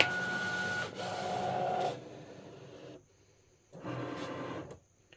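A printer-cutter rolls its loaded material through to check the length, giving a mechanical whirring hum in two separate runs with a pause between, close and moderately loud, with no talking.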